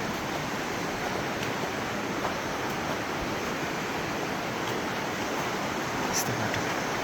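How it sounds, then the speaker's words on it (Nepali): The Sani Bheri river flows steadily nearby, a continuous broadband rushing and gurgling wash with no pauses and no voices. "call call बगिरहेछ Sani Bheri"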